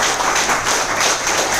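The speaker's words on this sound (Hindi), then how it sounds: "इनके लिए जोरदार तालियां चाहिए।" Applause for invited guests at an indoor training event, a dense, steady burst of clapping from a crowd lasting the full moment.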